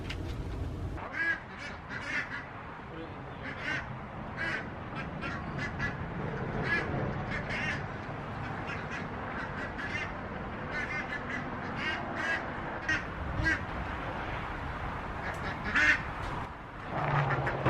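Pet ducks quacking inside their coop at home, a steady run of repeated quacks near and far with a background hum and scattered honk-like calls, no talking.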